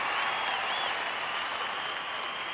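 A large awards-show audience applauds in a dense, steady roar of clapping that runs continuously, with faint crowd voices mixed in.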